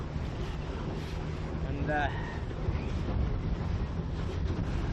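Strong wind buffets the microphone throughout a windy sailing race, a constant low roar with a brief voice near the middle.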